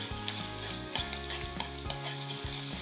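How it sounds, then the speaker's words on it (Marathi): Lots of garlic fries in hot oil for an Indian tadka, giving a loud, steady sizzle with the soft scrape of stirring now and then. Nobody speaks. "तेल गरम केलं आहे, यामध्ये खूप सारा लसूण आणि मस्त सोनेरी रंगावर आहे ना लसूण तळून"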